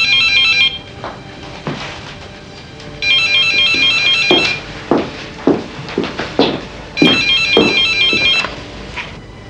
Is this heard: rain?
no